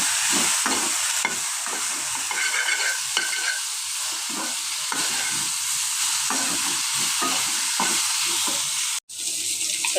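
Fish frying in a home kitchen pan: a continuous bright sizzle with spattering crackles and pops, close up, briefly cut by a short gap near the end.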